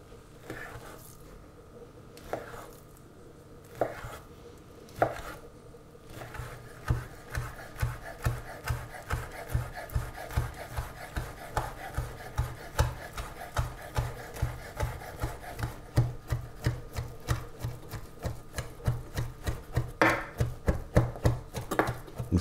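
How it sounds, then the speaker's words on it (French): A knife chops onion and tartare on a cutting board in a steady series of close, crisp taps that speed up into a regular rhythm after a few slower strokes at the start. "on va tailler l'oignon. On va découper le tartare."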